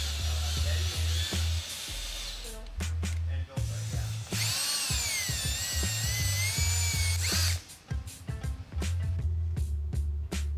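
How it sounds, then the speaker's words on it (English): A cordless power drill drives a screw into a churro in several whirring bursts, the motor pitch rising and falling with short pauses and clicks between runs, close and loud. "Set the screw into the opening of the churro, put a little bit of oomph behind the drill,"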